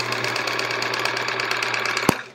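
A sewing machine hums and chatters steadily at close range while stitching the back of a quilt, a continuous motor drone with fine rapid needle pulses, ending in a sharp click as it stops.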